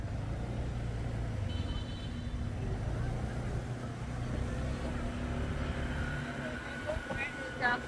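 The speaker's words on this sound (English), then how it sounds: "Motorbikes go where no one else can go." Motorbike traffic in Ho Chi Minh City: a steady low engine rumble of passing vehicles with occasional horn beeps, heard at a moderate distance, with people talking over it.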